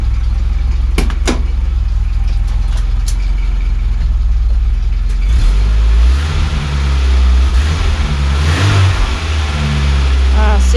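A Nissan Micra K10 engine revs up and down with its choke engaged, loud and close, the pitch rising and falling across several surges, with a voice speaking briefly over it.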